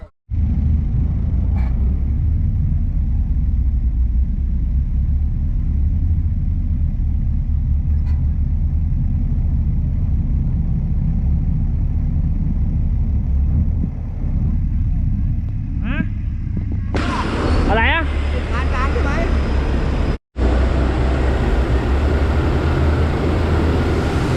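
Thai farm vehicle carrying rice to a mill, driving along with a steady loud low engine rumble for about twenty seconds, a brief change in tone and a sharp cut near the end, with occasional voices under it.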